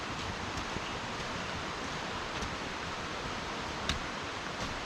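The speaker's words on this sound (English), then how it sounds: "The sounds of the water gets farther away." Flowing water of Grotto Falls in the Great Smoky Mountains heard as a steady, broad rushing hiss at a distance, even and unbroken with a few faint ticks, with no talking.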